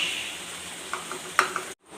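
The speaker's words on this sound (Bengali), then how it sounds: "এখন এটা মশলার সাথে ভালো করে কষিয়ে নিতে হবে।" Masala-spiced chicken sautéing in a pan, a brief steady hiss of sizzling broken by a few light scraping clicks of stirring, then it cuts off.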